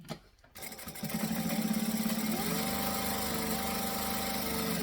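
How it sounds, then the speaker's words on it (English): A sewing machine starts and back stitches on the vinyl panel of a Timeless Travel Tote, then keeps running at a steady, moderate pace, its rapid needle rhythm loud and continuous. "just going to start up here on the vinyl bit with a back stitch, and then go down slowly-ish."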